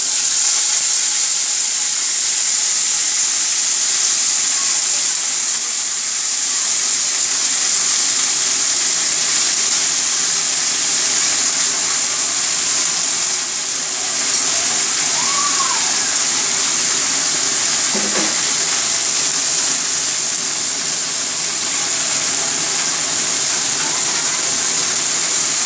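Radish greens dropped into a hot pan give a steady, loud hiss of sizzling that runs unbroken throughout, with no talking over it.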